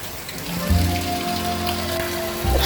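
Heavy first monsoon rain pours steadily in a village, a constant wash of loud rainfall on surfaces, with a low humming tone running beneath it.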